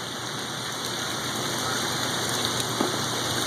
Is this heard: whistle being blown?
no